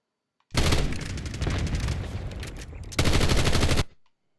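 Sustained automatic gunfire with tracer rounds in Call of Duty: Black Ops 6, a loud dense continuous burst lasting about three seconds, pausing for an instant, then a second burst that cuts off abruptly.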